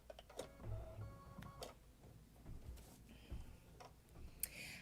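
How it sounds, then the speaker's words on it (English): An embroidery machine stitches the placement outline for an appliqué. Its quiet mechanical ticking and whirring run steadily throughout, with no talking. "we're gonna run our first machine step, which will be the placement stitch for our applique"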